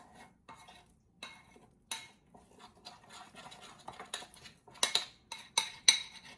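A spoon scraping and clinking in a bowl while protein powder is worked into a thick paste, with soft, irregular strokes that grow louder and sharper toward the end, close and alone.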